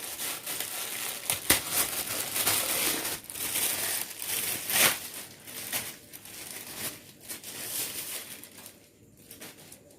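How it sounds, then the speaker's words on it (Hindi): A new laptop keyboard is pressed and fitted into place, giving crinkling, clicking and plastic scraping handling noises, close and uneven, with sharp snaps at intervals and no talk. "तो ये वाला कीबोर्ड मैं क्या करूँगा, यहाँ पे लगा दूँगा।"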